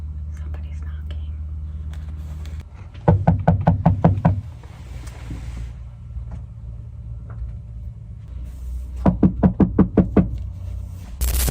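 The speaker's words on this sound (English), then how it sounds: "someone knocked on her van" Two separate bursts of rapid knocking on the side of a parked van at night, each about five or six sharp raps, stand out close and loud over a low vehicle hum, with soft whispering in between.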